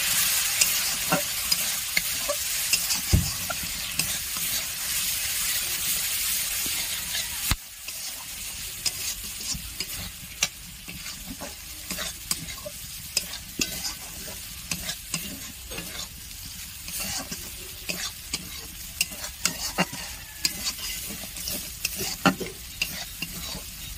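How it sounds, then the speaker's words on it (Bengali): Masala seasoned with turmeric is stirred and fried in a pan, giving a steady close sizzle broken by frequent scraping strokes of a spatula across the pan, with no voices. "মশলাটা ভালোভাবে কষিয়ে নেব।"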